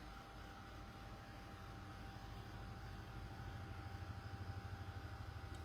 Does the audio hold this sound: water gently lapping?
no